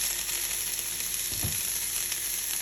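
Wild stinging nettles sizzle in a stir fry, a steady close hiss of frying with a brief louder stir or scrape near the middle, with no talk.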